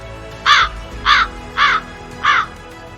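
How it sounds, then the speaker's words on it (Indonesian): Four hoarse, raspy bird cries sound in an evenly spaced series, each short and loud against a quiet background, from an eagle in a desert setting. "satu-satunya nyanyian burung yang terdengar hanyalah suara serak burung elang yang merintih"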